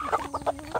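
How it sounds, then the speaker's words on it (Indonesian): Native village chickens and a rooster give a quick run of soft clucks, several short close calls within a second. "Jadi melihat ini ayam kampung jago yang bagus."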